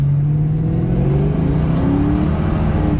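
A 1986 Ford Mustang with a 302 V8 revs steadily while driving, its engine note rising in pitch as it accelerates, loud and close with constant drivetrain rumble and no talking.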